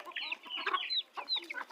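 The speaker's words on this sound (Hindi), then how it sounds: "एक तो ये बच्चों वाली जो मुर्गी है ना यार" A mother hen with chicks clucks close by among other hens in quick, overlapping bursts, a busy chatter of short squawky calls.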